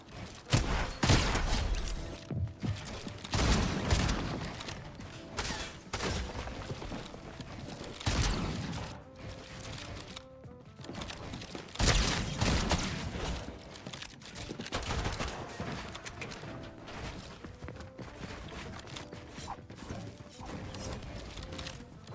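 Dense bursts of gunfire and mechanical clatter in a Fortnite ranked solo match, loud and near, with repeated volleys through a busy, continuous game soundscape.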